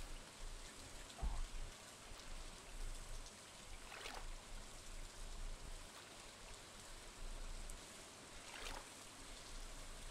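Rain falls in the farming video game Stardew Valley while fishing in town. A soft, steady patter fills the whole stretch, with a couple of brief splashy accents and no voices.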